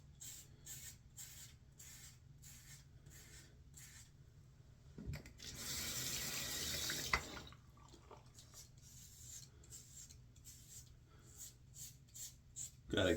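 Running tap water rinses a Leaf shaving razor during a head shave: a steady rushing splash for about two seconds. Before and after it come faint, rhythmic scraping strokes, all close and quiet.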